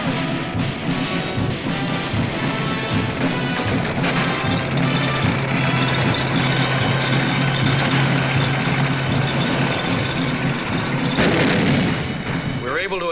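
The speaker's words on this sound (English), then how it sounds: "Our tanks come ashore and grind inland" Tanks come ashore and grind inland on an Iwo Jima beach amid wartime battle noise: a loud, continuous engine rumble and clanking under dense gunfire and explosions, with a steady drone running through the middle.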